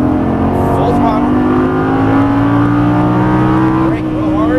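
Loud and close, a Lamborghini Gallardo V10 accelerates at full throttle down a racetrack straight in Las Vegas, its engine tone rising smoothly and then easing near the end as someone speaks over the roar.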